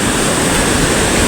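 A strong river current rushes in a steady, loud, broadband roar, close by and unbroken, with no voices over it.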